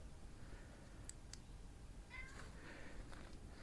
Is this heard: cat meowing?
yes